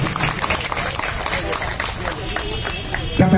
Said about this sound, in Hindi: एक बार जोरदार तालियां हाथ में उठे पीछे से।